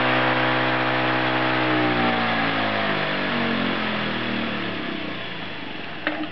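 An enhanced alternator converted into a motor spins at about 6,000 RPM, drawing 7 amps, giving a steady high-pitched whine with layered harmonics that slowly drift down as it runs alone with no talk.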